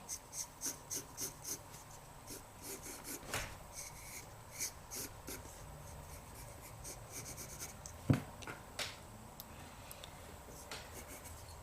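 Pencil scratching on paper while a manga head is sketched, a series of quick rhythmic strokes early on, then sparser intermittent scrapes and taps, close and quiet.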